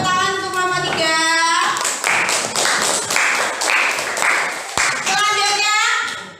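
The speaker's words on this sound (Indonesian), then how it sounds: "Ya, tepuk tangan untuk kelompok 3." Classroom of students clapping hands for a presenting group in a school lesson, a few seconds of brisk rhythmic claps between bursts of children's voices.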